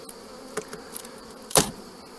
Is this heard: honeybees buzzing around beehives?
yes